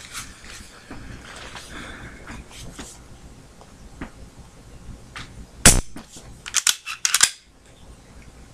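Glock pistol fitted with a plastic fork connector mod, its trigger resetting: crisp, close clicks, a single sharp snap followed by a quick cluster of several clicks, heard over a low, murmuring background.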